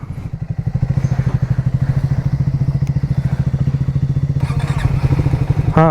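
A motorcycle engine idles close by with a loud, rapid, steady putter, revving briefly near the end.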